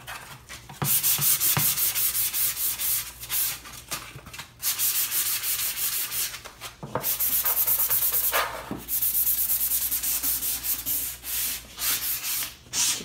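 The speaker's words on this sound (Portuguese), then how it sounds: "agora a gente precisa dar uma lixadinha, tá? Aqui eu tô trabalhando com uma lixinha 400" Steady rhythmic rubbing of 400-grit sandpaper by hand across an MDF panel, close and continuous with brief pauses between strokes and no talking.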